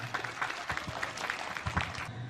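Audience applause at an Indonesian Maulid Nabi gathering, honouring soldiers of the TNI, with scattered hand claps that are fairly distant and modest in volume, lasting about two seconds with no voices over them.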